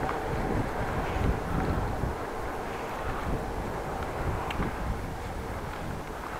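Headwind buffeting a cyclist riding through Lewenborg in Groningen: a continuous rough, low rumble of wind noise on the microphone, steady and fairly loud throughout, with no talk.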